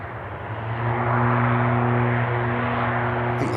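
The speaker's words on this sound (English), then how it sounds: "Lady Stardust about to touch down from Atlanta" A Virgin airliner arriving from Atlanta comes in to touch down at Manchester Airport, giving a steady rising roar with a droning engine hum that swells early and then holds level.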